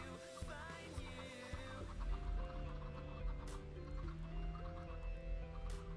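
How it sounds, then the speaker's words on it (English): Chickens cluck softly and repeatedly in Minecraft, blended into a busy background of game sounds and music. "All my chickens."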